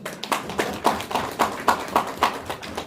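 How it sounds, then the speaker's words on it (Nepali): Members of a village assembly clap in support, a sparse run of about eight distinct, evenly spaced claps from a small group, fairly close and alone. "हुन्छ भन्ने मान्य सदस्यहरूले ताली बजाएर समर्थन गर्न समय प्रदान गर्दछु"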